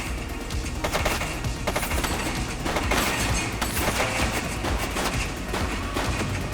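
Rapid bursts of gunfire crackle in the crime simulation game The Precinct, with dense overlapping shots and booming reports that stay loud and continuous throughout.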